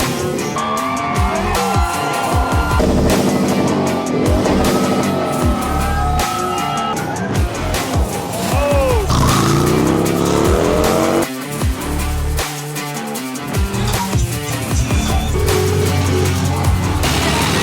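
Stunt motorcycles, including Harleys, revving hard at an event, engines roaring and whining through repeated throttle bursts with long tire squeals and skids, loud and continuous for the whole stretch.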